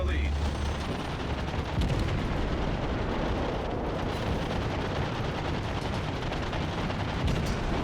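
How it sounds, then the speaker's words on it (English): Anti-aircraft machine gun fire from a cruiser in World of Warships, a continuous dense roar of rapid flak bursts and booming guns that runs loud and unbroken from start to finish. "I'm firing off anti-air like nobody's business because aircraft"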